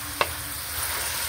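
Adobong kangkong with spare ribs cooks in a pan with a steady, soft sizzle, one brief clink or scrape near the start, and no voices.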